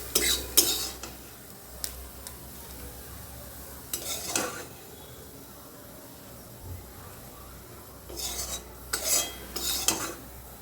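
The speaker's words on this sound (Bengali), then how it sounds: "এবার আমি গাজরটাকে তুলে নেব" Fried carrot lifted out of a frying pan with a utensil, giving a few bursts of metal scraping and clinking against the pan at the start, middle and end over a faint low sizzle, with no talking.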